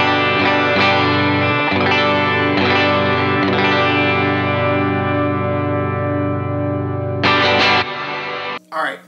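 Electric guitar played through a pedalboard of effects, sustained distorted chords ringing loud and close with a few rhythmic re-strikes, then a brief pause and a short final chord.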